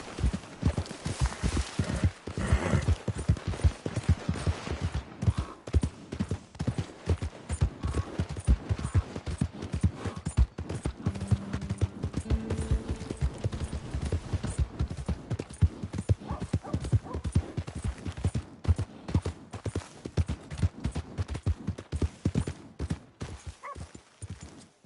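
Rapid clip-clop hoofbeats of a horse galloping in the Red Dead Redemption II video game, a steady loud drumming that runs throughout with a brief whinny and some game sounds in the background.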